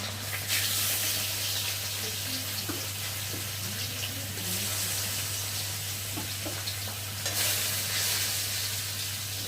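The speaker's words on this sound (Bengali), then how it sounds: "এখন আমি এই যে মাছটা তেলের মধ্যে দিয়ে ভালো করে ভেজে নেব" Large pieces of rohu fish frying in hot oil in a kadai, a steady sizzle with faint stirring and clinking, running continuously without talk and swelling briefly at a few moments.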